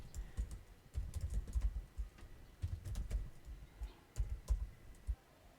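Someone typing code on a computer keyboard, with close, quiet clusters of key clicks arriving in irregular bursts separated by short pauses.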